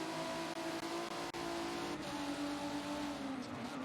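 Race car engines roar continuously at Brands Hatch in a racing video game, a loud steady drone with shifting pitch as cars run close together, with no talk.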